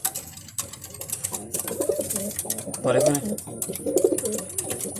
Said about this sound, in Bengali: আমার কিছু ফ্লাইং এর কবুতর।